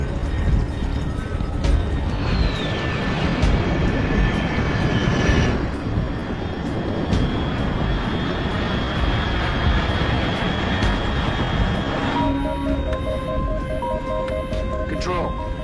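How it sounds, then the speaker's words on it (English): An aircraft engine drones continuously and loudly in the stealth game Metal Gear Solid Delta: Snake Eater, a steady airplane roar with shifting tones and speech layered over it. "Control, unidentified aircraft detected."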